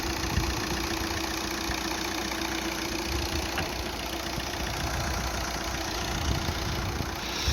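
A Volkswagen Golf Mk6 diesel engine idles at running temperature during a carbon clean, giving a steady, close, rough clatter with a constant hum and no speech.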